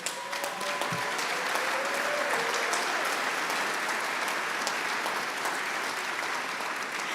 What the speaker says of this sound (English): one more round of applause for the significant others, please.